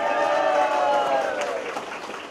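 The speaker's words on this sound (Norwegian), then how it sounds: "takk for applausen alle sammen" An audience applauds at a Syng og le show in Grue i Finnskogen, a steady wash of clapping with voices mixed in, fading slightly toward the end.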